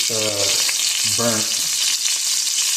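Bacon grease, garlic-infused, sizzling in a hot pan on the stove, a steady broadband hiss running throughout, with two short bursts of voice-like tones over it near the start.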